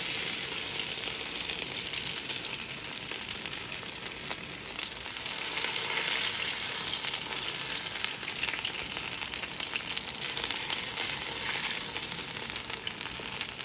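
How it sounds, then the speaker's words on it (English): Fish pieces frying in hot oil in a pot for Guyanese fish soup, a steady, dense sizzle that runs unbroken and fairly close throughout, with no voices. "we're going to allow this other side to cook before we remove them from the pot"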